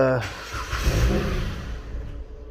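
A 2008 Jeep Compass 2.4L engine idles with a rough, uneven rumble from a faulty throttle body, close by, while a voice talks over it.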